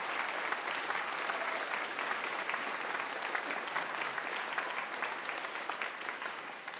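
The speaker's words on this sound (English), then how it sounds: "let's give your parents a big round of applause for all their support" Steady, even applause from a concert audience at a gathering of school bands, heard at moderate distance and lasting throughout without a break.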